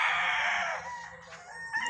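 Young stag roosters crowing at a farm at the foot of a mountain, one loud drawn-out crow close by that trails off, followed by fainter clucking and a second bird starting up near the end.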